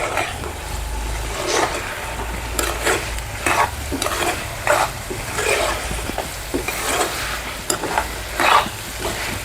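Chicken liver fry being stirred in a pan with curry leaves, a steady sizzle broken by repeated scraping, clacking stirs of a spoon, close up and without any speech.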